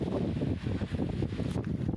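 Strong gusting wind on the bank of the Meghna River in Bhola, Barishal, roaring steadily close to the microphone with buffeting low rumble and no voices.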